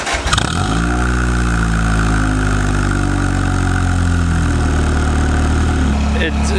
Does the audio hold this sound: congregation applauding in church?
no